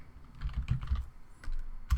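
Typing on a computer keyboard, a short run of quick clicky keystrokes up close, entering a search for Soundtrap, with a brief burst at the end and no talk.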